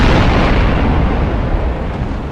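A burning warship's powder stores explode in a Napoleon Total War sea battle, giving a loud, close, deep blast that rumbles on and slowly fades.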